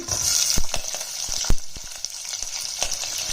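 Onion and vegetables frying in a pan for sambar, a steady close sizzle broken by sharp clacks and scrapes from stirring, with no talk.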